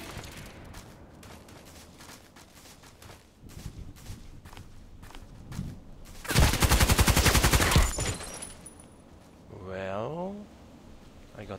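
Gunfire from a SCAR-L assault rifle in a first-person shooter game: a loud, rapid automatic burst of about a second and a half follows soft footsteps and scattered distant shots, then a voice speaks briefly.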